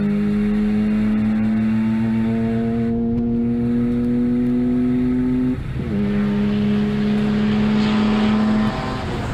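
A Toyota Supra and a Mazda RX-7 race car lapping the Hampton Downs track, a loud sustained engine drone that holds steady, dips briefly with a gear change, then climbs again, with no talk.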